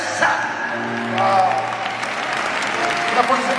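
An audience at a religious gathering in Ottawa claps in sustained, even applause while a speaker's voice carries over the top.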